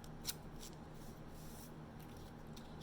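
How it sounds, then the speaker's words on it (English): Scissors curling the ends of paper flower petals, a soft repeated scraping and rustling heard close and faint over a steady background hum. "I'm going to take my scissors here and just curl all the ends of all of these."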